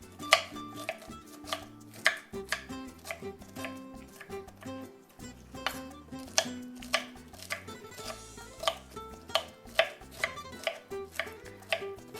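Knife chopping vegetables for coleslaw on a board: a steady run of sharp, close taps, some in quick bursts, with light rustling in between and no talking.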